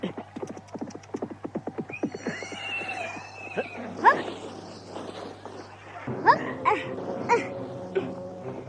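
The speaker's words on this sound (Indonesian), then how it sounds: "Semua orang yang menunggang kuda menambatkan kudanya di sana." Horses in a royal city setting whinny and neigh several times over a steady low drone, with hoof clip-clops and a scattered background of movement and voices.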